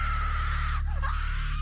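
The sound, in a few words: woman screaming, horror story sound effect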